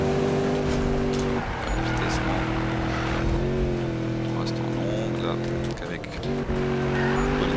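A Ford Mustang roars through a drifting run in the Need for Speed racing game, its engine holding a loud, steady drone that shifts pitch now and then, with tire squeal mixed in.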